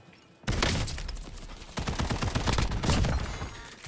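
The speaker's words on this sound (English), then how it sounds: "I was trying to demonstrate with the shotgun how that shotgun works is you hold down the trigger" Shotgun fire in the video game Warzone: a sudden loud blast followed by sustained, rapid booming shots and gunfire for several seconds, dense and close with no pause.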